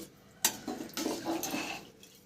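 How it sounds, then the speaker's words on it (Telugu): A spoon stirs egg biryani rice in a pot, giving a few soft scraping clinks and a metallic tap against the pot's side, quiet and close, with no talk. "కొంచెం జాగ్రత్తగా కలపాలి."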